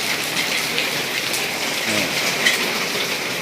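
Heavy rain pours steadily, a dense hiss of drops hitting a surface without pause.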